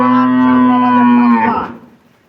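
A dairy cow lets out one long, loud, close moo that holds steady and then tapers off into silence.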